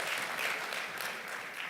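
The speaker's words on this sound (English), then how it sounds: "So another round of applause for Mr." Steady audience applause at an investment conference, a continuous wash of many hands clapping at moderate distance with no voices rising above it.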